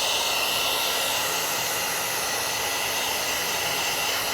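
Heat gun blowing hot air on the plastic rear emblem of a 2026 Tesla Model Y Juniper, a steady loud whooshing roar that runs unbroken and close throughout, with no voices.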